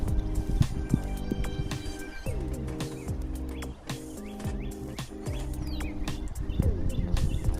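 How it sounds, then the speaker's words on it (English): Pigeons or doves coo and small birds chirp repeatedly around a home kitchen, with layered calls overlapping throughout, fairly prominent and close. "So, are the bird sounds too loud?"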